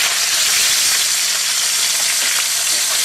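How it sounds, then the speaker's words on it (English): Shrimp stir-frying in a pan, a dense, steady sizzle filling the whole moment at close range with no talk over it. "So now we're going to stir it up a little bit, get the other side cooked."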